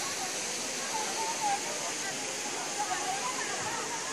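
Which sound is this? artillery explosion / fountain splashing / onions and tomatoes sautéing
fountain splashing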